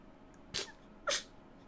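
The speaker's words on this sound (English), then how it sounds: "Sorry, I'm gonna sneeze." Two sharp sneezes from a man in a Yakuza Kiwami 2 game scene, about half a second apart, each a brief loud burst standing clearly above a quiet room-tone background.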